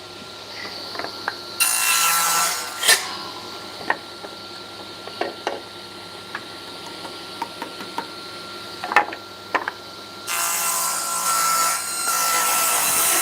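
A blade rasps along a wooden edge, taking off the arris in two long rough scraping strokes at the start and end, with scattered clicks, knocks and handling taps between them, close and fairly loud.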